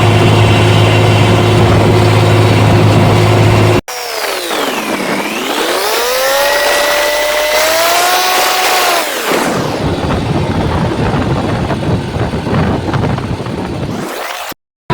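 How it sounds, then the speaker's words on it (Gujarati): A tractor engine running nearby, rising and falling in pitch as it revs and moves off, with a loud, rough steady drone and a sudden cut near the end. "મોટો ભાઈ ટ્રેક્ટર લઈને જાય છે મોર"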